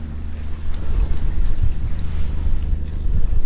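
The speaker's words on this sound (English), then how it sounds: "The wind is right in my face" Steady wind buffets the microphone outdoors on a boat while saltwater light rock fishing, a continuous low rumble with gusty swells and no speech.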